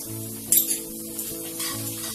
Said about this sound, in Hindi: तो अब इसमें ये अदरक लहसुन का पेस्ट हम डालेंगे